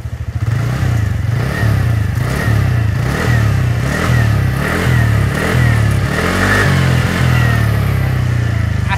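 A TVS Ntorq 125 scooter on its stock exhaust, running loud and close, its engine revved repeatedly in steady rhythmic bursts over a low idle rumble with a slight clatter, and nobody talking.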